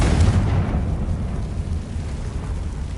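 A Confringo fire spell from Hogwarts Legacy bursts into a deep, rumbling explosion that swells loud at the start and rolls off into a long low roar.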